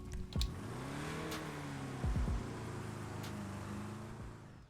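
Vapid Dominator GTT muscle car in GTA Online, engine revving up and settling back down twice over a steady rumble, heard up close with no talking.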